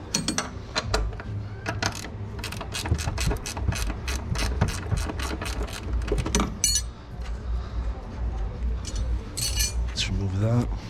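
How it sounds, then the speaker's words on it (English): A hand ratchet clicks in rapid bursts as it backs off a nut on the wheel bearing of a 2011 B8 Audi A4, with close metallic ticking runs, brief pauses and a few clinks of tools. "Remove the nut."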